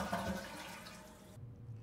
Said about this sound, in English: It also flushed.